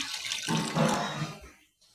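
Mixed dal (lentils) are rinsed clean under running water in a kitchen, a close, steady rush of flowing and splashing water that swells midway and then cuts off near the end, with no talk.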